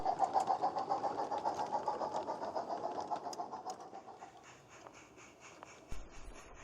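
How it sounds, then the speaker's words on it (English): A Naismith and Wilson 0-4-4 light railway steam locomotive departs a country station with a passenger train, its rhythmic chuffing strong at first, then slowing and fading into the distance, followed by a faint clunk. "the midday down passenger departs Beeston Market Station, hauled by the most recent addition to the line"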